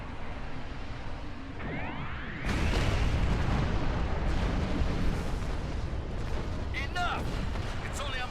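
A doomsday weapon fires indiscriminately in Star Trek Online, with a dense, continuous barrage of booming blasts that grows louder partway through, and sweeping energy whines and zaps over the roar. A voice speaks faintly amid the din.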